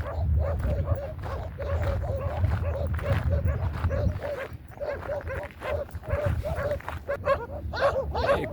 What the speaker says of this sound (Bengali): অনেকগুলা কুকুর একসাথে হয়ে গিয়েছে যারা এই